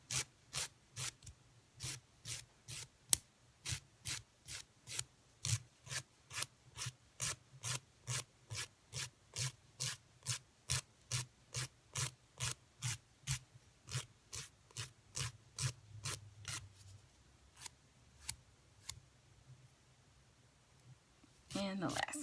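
A nail file rasps straight down along a fingernail edge to take off the excess, a steady, close run of quick, evenly spaced strokes that thins out and slows near the end.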